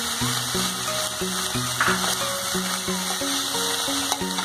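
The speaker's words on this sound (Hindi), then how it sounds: "इसे थोड़ी सी फ्लेम को तेज करके अच्छे से भून लेंगे, 1 मिनट भून लेंगे।" Tofu coated in masala and sabzi masala fries in a pan over a raised flame, with a steady close sizzle and repeated scraping and clinking of a spoon stirring it.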